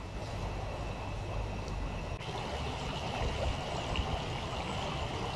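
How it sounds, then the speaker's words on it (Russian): The Tirlyanka river in the Southern Urals, edged with first ice, flows steadily with a close, continuous rushing and babbling, with no voices over it. "Ну, подойдем к речке. Послушаем шум воды"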